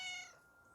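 A house cat gives a single short meow indoors, moderately loud and close, fading into quiet room tone within a second.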